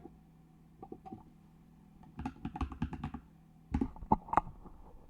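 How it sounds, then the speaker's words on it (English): Clacky computer keyboard typed right beside the mic, with scattered keystrokes and then denser bursts of sharp clicks over a quiet, steady hum, no speech. "How do you like the sound of my keyboard?"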